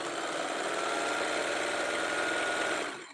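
Sewing machine stitching a jelly roll rug, running steadily and continuously at close range with a dense mechanical whir, slowing to a stop at the very end.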